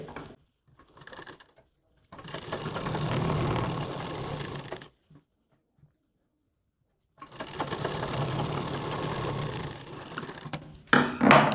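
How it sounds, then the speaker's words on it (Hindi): A sewing machine stitching blouse fabric runs in two long bursts of a steady whirring rattle, split by a stretch of silence, with brief handling clatter at the start and end. "पहले आपको एक सिलाई यहाँ पे लगानी है ताकि इसमें अच्छे से जुड़ जाए"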